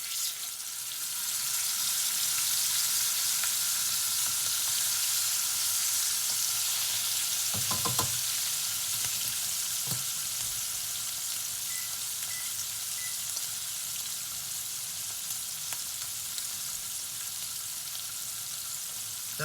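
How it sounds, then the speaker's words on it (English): Steady, loud sizzling and crackling of a ribeye steak frying in hot oil and butter, continuous throughout with a brief clatter partway through. "the steak has to start sizzling as soon as it touches the oil"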